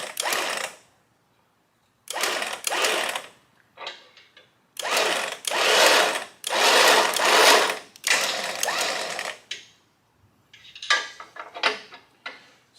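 A 13000 lb electric winch motor on a 4WD whirs in repeated bursts of a second or two, stopping and starting as the cable spools out and back in, close and fairly loud with short gaps of quiet.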